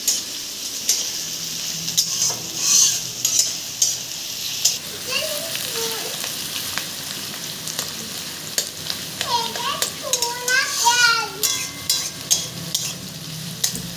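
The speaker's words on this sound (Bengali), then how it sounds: "এই যে পেঁয়াজ কুচোগুলো দেওয়া হলো এবার এগুলো ভাজা পর্যন্ত অপেক্ষা করা হবে লাল লাল করে ভাজা হবে" Chopped onions frying in a pan for ghugni, a steady close sizzle with intermittent stirring scrapes, while someone talks over it and a voice chimes in briefly.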